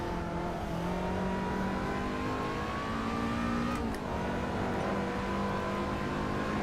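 A race car engine in the Assetto Corsa video game, racing at Silverstone International, holds a steady high drone that climbs slowly through the gears, dips briefly at a shift and then builds again, loud and continuous with no talk.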